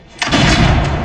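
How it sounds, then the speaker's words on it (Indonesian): A pistol shot fired in a duel scene from a John Wick film, a sharp loud blast followed by a sustained booming, reverberant tail lasting the rest of the moment. "Hingga sekarang mereka maju 10 langkah untuk melanjutkan tembakan yang kedua."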